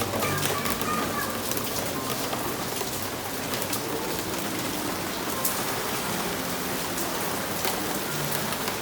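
Heavy rain pouring down in a dense, unbroken roar with spattering drops close by, loud and steady throughout.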